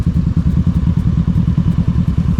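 Motorcycles ride along a soft, muddy road on the way to Minalungao National Park in Nueva Ecija. Close, loud engine rumble with a steady, rapid thumping pulse throughout, and no talk.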